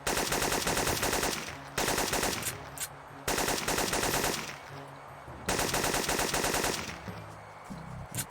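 Sustained bursts of automatic gunfire in the video game Syphon Filter 2, Colorado Mountains mission, loud and continuous rattling in several long volleys separated by brief gaps, with no talking.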